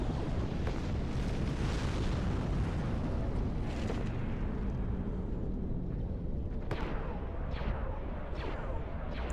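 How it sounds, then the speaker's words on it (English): Starship weapons fire and explosions in a Star Wars WARNO strategy game: a dense, continuous roar of rumbling blasts and booms, with a few sharper shots cracking through near the end. "the Abyssal Needle, there you go, taking shots at the Acclamator here"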